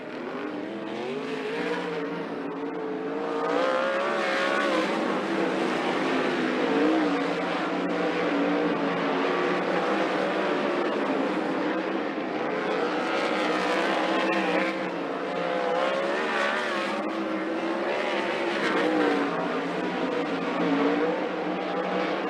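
Several 360 sprint cars running hot laps at Skagit Speedway, their engines roaring loudly and continuously, pitch rising and falling as they circle the dirt oval, with cars passing by close to the microphone.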